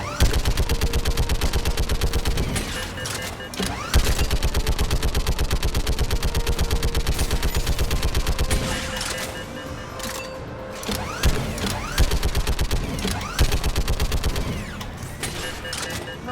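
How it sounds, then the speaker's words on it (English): Mounted turret in Mass Effect 3 fires in long, steady automatic bursts, loud and close, with brief pauses and single heavy shots breaking up the rhythm. "I'm getting on a turret."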